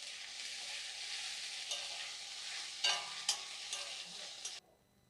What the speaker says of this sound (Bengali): এবার এর মধ্যে দিয়ে দেবো আদা রসুনের পেস্ট। এটিকেও ভালো করে ভেজে নেব